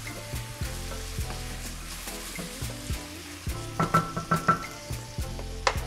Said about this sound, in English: we're gonna add the onions and the tomatoes. We're gonna give this a nice stir.